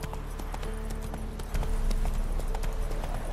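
A horse gallops in the open world of The Witcher 3: Wild Hunt, a steady, close clip-clop of hooves that grows a little louder partway through, over a low game soundscape with no talk.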